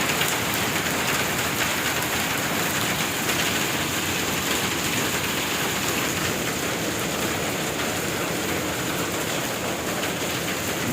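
Heavy rain pours down in a dense, unbroken hiss, steady and loud from start to finish with no voices.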